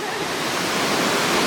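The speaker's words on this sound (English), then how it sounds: "It's a fantastic waterfall." A large waterfall on a North Carolina hiking trail, a loud, constant roaring rush of falling water that fills the whole moment with broadband noise and no voices.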